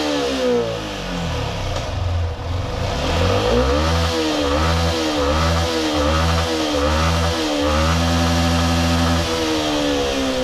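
A Yamaha TFX motorcycle engine revs high on the road, its pitch climbing and dropping through repeated gear-like swells in a loud, continuous, close drone.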